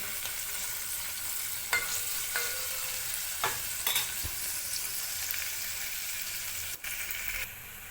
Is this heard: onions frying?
yes